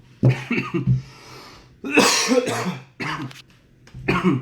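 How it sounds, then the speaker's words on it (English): A few harsh coughing fits, close and loud, with short pauses between bursts and no talking. "My cough is killer"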